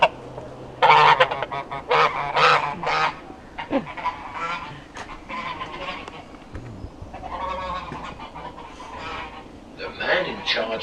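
A goose honks in a series of loud, repeated calls close by, with people talking over and between the honks at a castle attraction.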